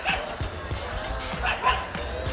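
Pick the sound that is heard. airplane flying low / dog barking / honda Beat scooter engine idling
dog barking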